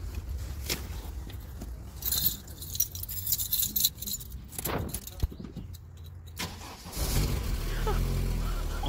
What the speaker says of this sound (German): So, jetzt gehen wir ins Auto, probieren mal zu starten.